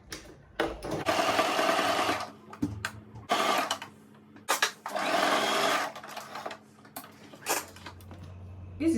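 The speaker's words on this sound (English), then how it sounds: "Then I'll take it to my sewing machine and stitch it down." A sewing machine stitching fabric for a turban runs in two long bursts of rapid stitching, separated by brief pauses and small handling clicks, fairly close.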